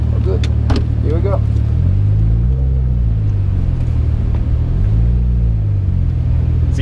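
Porsche 911 GT3 RS heard from onboard on a lap of the Nürburgring, its engine droning loud and steady with rising and falling pitch sweeps as it works through gears, constant rumble throughout.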